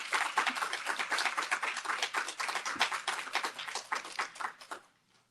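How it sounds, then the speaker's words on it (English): A round of applause from an audience at a digital innovation challenge event, dense steady clapping that carries on for about five seconds before quickly dying away. "Please give them a good round of applause."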